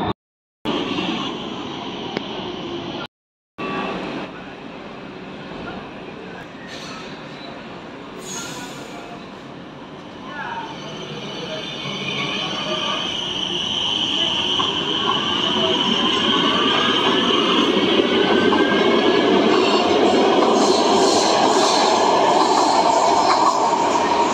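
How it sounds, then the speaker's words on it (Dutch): A Rotterdam metro train on line D or E runs steadily, its rumble and wheel noise building and growing louder as it picks up speed, heard from onboard with no talk. "Nu aangekomen op de Maashaven en nu met metrolijn D of E richting Rotterdam Centraal Station."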